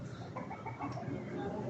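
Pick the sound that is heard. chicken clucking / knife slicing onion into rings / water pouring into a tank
chicken clucking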